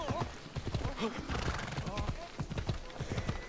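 Rapid, rhythmic hoofbeats of a horse galloping in Assassin's Creed Odyssey, clip-clopping at speed, steady and close, with some speech-like voice sounds mixed in.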